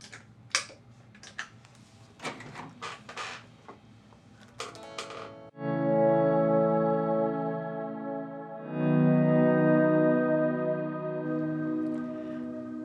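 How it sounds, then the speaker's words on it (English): Soft scratchy tapping and clicks give way to smooth electric guitar volume swells made with a Zoom pedal, fading in gently, sustaining with washes of echo and reverb. "I can use the pedal on the Zoom to do some swells at this volume"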